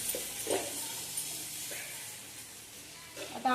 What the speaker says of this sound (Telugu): ఆనియన్స్ కూడా ఫ్రై అయిపోతున్నాయి.